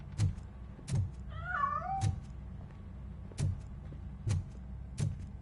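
A cat in the video game RoboCop Rogue City lets out a single warbling meow, faint to moderate, between regular evenly spaced thuds or footsteps that repeat about once a second.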